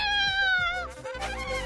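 A cat gives a drawn-out, wavering meow up close, followed by a shorter rising cry, loud and clear with no talk over it.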